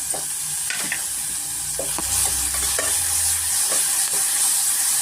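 Chopped tomatoes fry with asafoetida in a pan for a vegetable curry, giving a steady close sizzle with bursts of spatula scraping and stirring knocks partway through.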